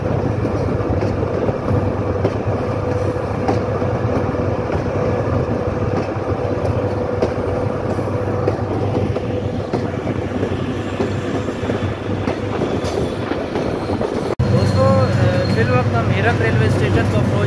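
A train rumbles steadily along the rails while crossing a railway bridge near Meerut, with a continuous low roar and rhythmic wheel clatter throughout, loud and close.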